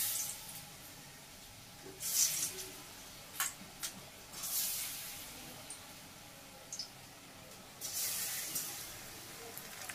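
Cauliflower fritters fry in hot oil with a soft, steady hiss, broken by several brief louder sputters and pops, faint and close.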